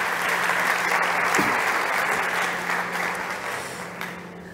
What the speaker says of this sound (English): Big applause for Marina.